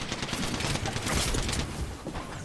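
Dense, distant-sounding enemy gunfire in Apex Legends rattles as a continuous busy wash of shots and impacts, without clearly separated individual reports.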